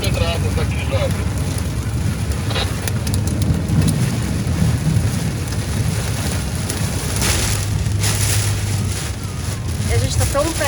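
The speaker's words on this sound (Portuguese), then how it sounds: "fomos surpreendidos por uma tempestade assustadora. Tá em granizo, né?" A fierce hailstorm with rain and thunder pounds down in a dense, loud, continuous roar with rumbling low tones and wind buffeting the microphone, caught outdoors during an overland trip in Espírito Santo.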